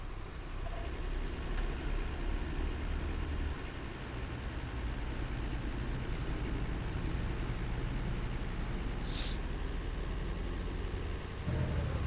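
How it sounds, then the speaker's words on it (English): A tractor engine in a farming video game drones low and steady throughout, with a continuous rumbling hum and a brief higher tone partway through; no one speaks. "sounds of a real tractor."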